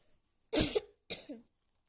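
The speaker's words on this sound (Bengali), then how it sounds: "তুমি দেখতেই পেলে এখন কীভাবে কাশলাম" Two close, harsh coughs from someone ill with a bad cough, in quick succession, the first louder and longer, then silence.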